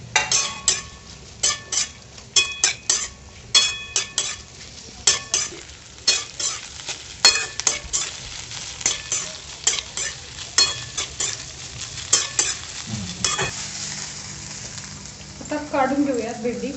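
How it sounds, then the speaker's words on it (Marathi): Okra stir-fried in oil in a kadhai, with steady close sizzling and rhythmic scraping and clinking of a spatula against the pan, repeating every second or so, and a brief faint voice near the end. "कढई आणि आपली भेंडी थोडीशी परतून घेऊया।"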